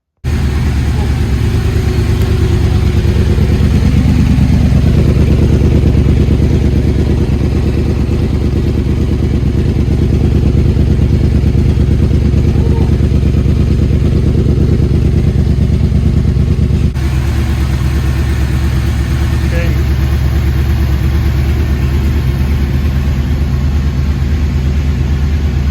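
A sportbike, either a Yamaha R1 or an Aprilia RSV4 fitted with an Akrapovic exhaust, runs with a steady, loud, close engine rumble that holds evenly throughout with little change in pitch.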